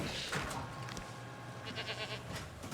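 A goat bleats faintly in the Jurassic World Evolution 2 video game as predators close in, a short wavering cry over quiet game ambience.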